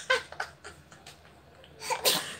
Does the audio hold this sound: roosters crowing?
no